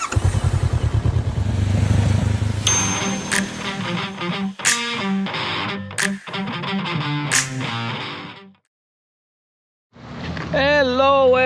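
Motorcycle riding on an adventure trip, engine droning and revving with clattery gear-shift bursts, then a brief drop to silence before the engine picks up again; no voices over it.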